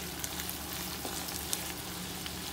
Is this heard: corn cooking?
yes